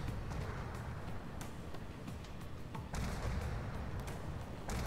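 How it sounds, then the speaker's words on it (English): Artillery fire and shell impacts in a tank video game, a dense rumbling barrage of booms and sharp bursts at moderate level, with several distinct blasts standing out over continuous low battle noise. "Artillery coming up."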